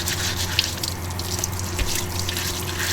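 A kitchen faucet runs steadily into a sink while pork belly is washed during cooking, a constant close splashing wash with occasional small clinks.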